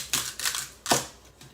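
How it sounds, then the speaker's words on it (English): Knife chopping celery stalks on a board, three crisp, close crunching chops in quick succession, each fading fast, no talk. "we want to cut up some celery stalks"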